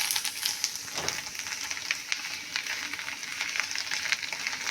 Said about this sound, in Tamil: இதை மெதுவாக இப்போ நம்ம வதக்கி எடுக்கணும்